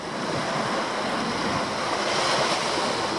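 Sea waves on the Norwegian coast wash in and pull back in a continuous, close, broadband roar mixed with wind buffeting, no voices present.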